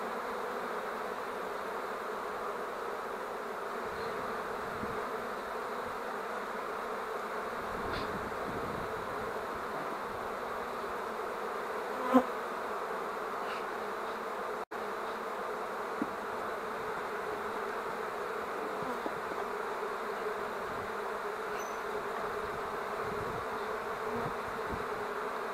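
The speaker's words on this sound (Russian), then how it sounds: "Откуда это прилетело столько пчел?" Swarm of honeybees buzzing steadily around an empty hive it has moved into, a dense continuous hum close by with no talking.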